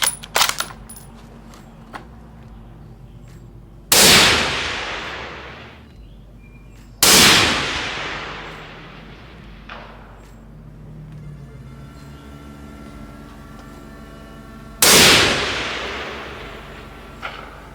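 A CZ 600 rifle in 6.5 PRC fires single, loud, sharp shots several seconds apart outdoors, each crack followed by a decaying echo over faint background noise.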